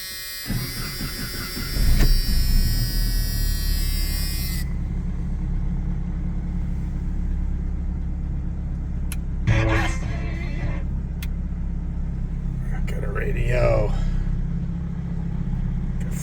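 A 1986 Jeep Comanche XLS engine running steadily with a low idling rumble throughout, louder early on, with brief voices and a few clicks over it.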